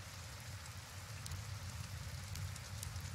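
Soft, steady rainfall in the tavern-management video game Tavern Master, a quiet continuous patter with light scattered drops and a faint low rumble underneath, no talking.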